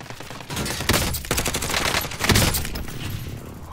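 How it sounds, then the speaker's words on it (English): Precision airstrike explosions in Call of Duty: Warzone, several heavy blasts and rumbling impacts landing in quick succession, loud and close, with a steady roar of battle noise between them. "Enemy precision airstrike, take cover!"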